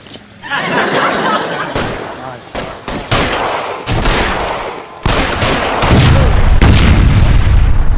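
Rapid gunfire bursts from a shootout in the LA crime game L.A. Noire, loud and near, with repeated volleys and heavy booms crowding the whole stretch almost without pause.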